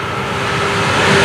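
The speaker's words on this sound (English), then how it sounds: "Oh, look at this train." A southbound passenger train with a red car runs at track speed on a main line, a loud, steady rumble that builds slightly over a little more than a second, with a faint horn-like tone held through it.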